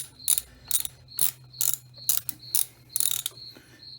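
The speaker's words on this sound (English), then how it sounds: "You want to remove this bolt." A ratchet wrench backs out a bolt on a Harley Street Glide shifter shaft. About eight quick, evenly spaced ratcheting bursts sound close by, with no talking.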